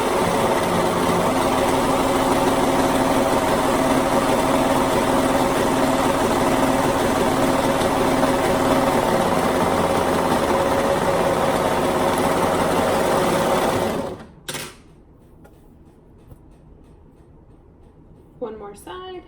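Sewing machine stitching a tunic seam, a loud, steady motor whir running close and continuously for about fourteen seconds before stopping abruptly, followed by near silence and a few faint clicks.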